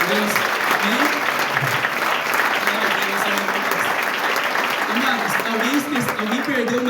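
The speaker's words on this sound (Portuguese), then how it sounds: "Vamos aplaudir o Senhor pela vida desse servo de Deus" Church congregation applauding during a worship service, a steady, dense wash of clapping over about seven seconds, with voices, music or singing pitched tones weaving through underneath.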